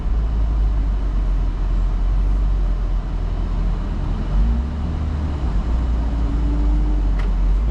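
BMW E30 driving under load, a loud steady engine drone with road rumble, the pitch dipping and rising again as the gears shift, with no talk over it.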